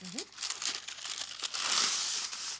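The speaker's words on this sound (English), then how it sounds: "we're gonna grab some baking paper" Baking paper is crinkled and torn in a kitchen while making alfajores de maicena with dulce de leche, a crisp rustling burst that grows louder near the end, with a brief voice at the start.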